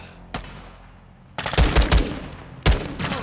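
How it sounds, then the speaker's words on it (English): Light machine gun firing in Modern Warfare II, a single shot followed by two loud, heavy bursts of rapid automatic fire with booming low impacts, no talking. "Okay, got myself a nice light machine gun."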